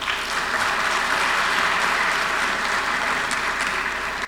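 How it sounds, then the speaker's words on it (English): An audience at a Vaisakhi celebration applauds steadily, a thick, sustained wash of many hands clapping throughout without a break. "So let's give a big clap to America."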